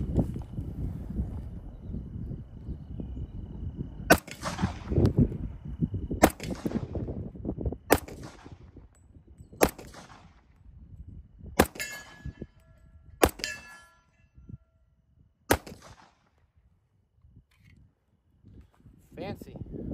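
Sharp metallic clangs of .45, 9mm and .22 pistol rounds striking a brake drum at a shooting range, about seven separate ringing hits spaced a second or two apart, each with a bright decaying ring, talk heard early on.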